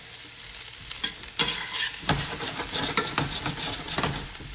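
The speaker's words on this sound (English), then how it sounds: "So we got a pan of oil going over medium heat." Greens fry in oil in a stainless steel pan over medium heat, giving a steady close sizzle broken by bursts of scraping and stirring.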